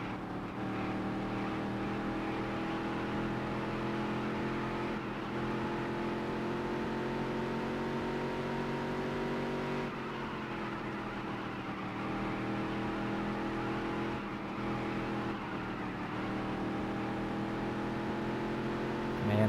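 A race car in the racing video game Dirt to Daytona revs hard and continuously for the full stretch, its loud, droning engine tone rising and dipping with gear shifts and corners, with no talk over it.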